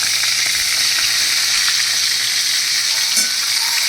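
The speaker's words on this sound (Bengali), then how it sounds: "পটলগুলো আমি ভালো করে লাল লাল করে ভেজে নেবো" Pieces of pointed gourd (potol) fry in hot oil in a kadai with a loud, continuous, close sizzle that holds steady throughout. No one speaks.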